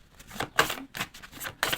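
A deck of tarot cards is cut by hand, giving a few quick, soft papery riffles and taps close by, each lasting a fraction of a second.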